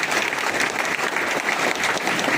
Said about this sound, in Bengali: আমাদের সবুজ বসের জন্য সর্বোচ্চ একটা করতালি আশা করছি